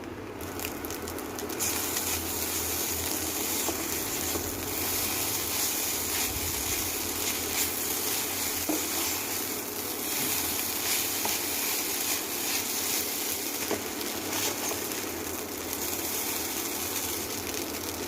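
Chow mein stir-frying with salt and ground pepper in a pan, a steady loud sizzle and hiss running throughout with faint scraping stir sounds.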